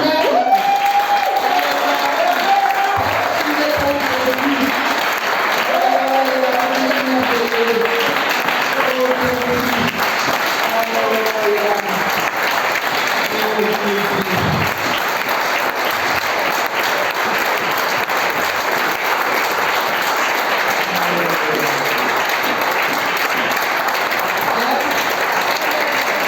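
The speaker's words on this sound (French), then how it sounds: "Tu l'applaudis avec toute ta force." Church congregation applauding with full force, sustained crowd clapping throughout while a preacher's voice speaks over it in the first half.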